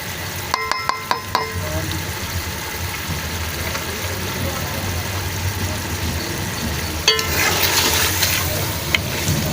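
Mutton fries and sizzles in hot oil in a pan, a steady crackling hiss with a few clinks of a stirring utensil, close and continuous.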